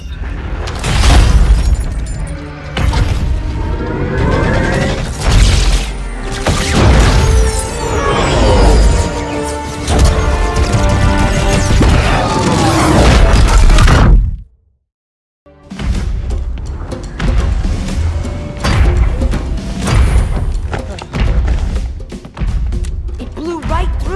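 Rockets blast in the video game Halo 2, loud booming explosions and heavy thuds mixed with gunfire, music and voices, broken by a sudden second of silence before the chaos resumes.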